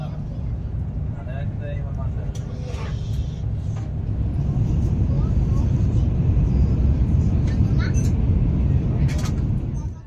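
An Iryo high-speed train accelerating toward 300 km/h, heard from inside the carriage as a steady, broad low rumble that swells slightly louder partway through, with faint higher noises above it and no talk.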